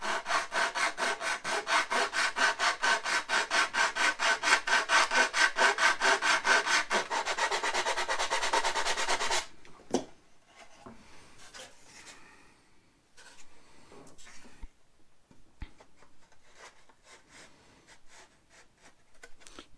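Wood being sanded by hand to shape a joint fit, a steady rapid back-and-forth rasping stroke for about nine seconds, then quieter intermittent scuffs and handling noises.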